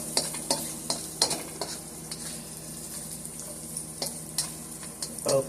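Chopped onions frying in a pan on low heat, a steady soft sizzle broken by scattered clicks and scrapes of stirring, close and alone with no voices.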